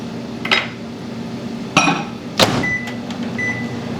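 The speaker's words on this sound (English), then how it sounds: "This is going in the microwave, not the spoon" A dish is placed into a microwave in a home kitchen. Clinks and clatters of crockery and a door thud sound close by over a low steady hum, with short beeps near the end.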